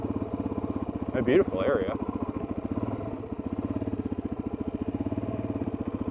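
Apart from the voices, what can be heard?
motorcycle engine running during a mountain ride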